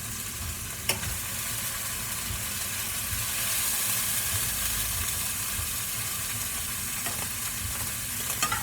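Grease sizzling steadily in a frying pan over heat set too high, with a sharp pop near the start and a few more spits toward the end, close and continuous.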